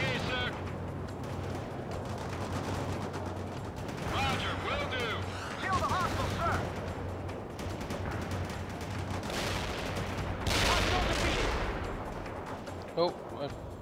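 Heavy machine gun fire in the World in Conflict video game, loud bursts and booms layered under continuous battlefield rumble, with radio-style voices talking throughout.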